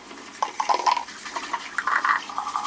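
A plastic box washed clean by hand under running water, with light splashing, scrubbing and faint knocks of plastic close by in a sink.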